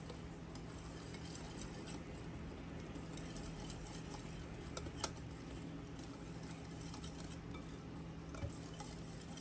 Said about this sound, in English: Okay, we're gonna make sure that we mix everything.